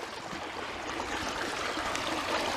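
A creek runs in a steady, continuous rush of flowing water, close and fairly loud, with a broad hiss and gurgle and no voices over it.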